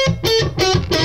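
An electric guitar with a distorted tone picks diminished scale notes, four separate sustained notes in an even, steady sequence, played close and clear with no talking.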